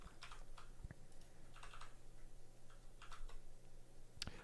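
Faint, scattered taps on computer keyboard keys, including W and the arrow keys, come in small clusters over a low background hum, with one sharper click near the end.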